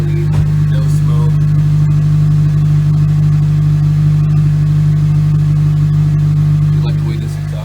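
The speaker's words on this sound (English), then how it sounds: "I like the way this exhaust sounds." 8th-gen Honda Civic Si with a K24A2 engine swap, engine and exhaust running loud and steady with a strong low drone and a slight rev, close to the car, then easing off at the end.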